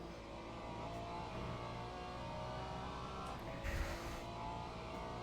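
Race car engine in the Le Mans Ultimate racing game, stuck in sand, droning steadily at a constant level with a brief louder burst of revving near the end.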